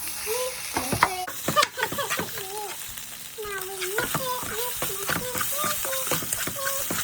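Shrimp fried rice is stirred in a pan with a soft ongoing sizzle and scraping, while a child and an adult talk over it.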